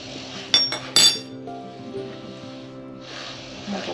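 A small whisk clinks against a bowl of pumpkin puree in two quick bright bursts near the start, followed by quieter faint stirring and low background hum.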